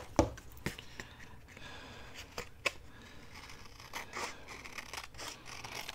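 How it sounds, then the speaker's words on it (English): Scissors snip through paper in short, irregular cuts, close by, with quiet rustling between them and no talking. "And I'm cutting with the wrong scissors."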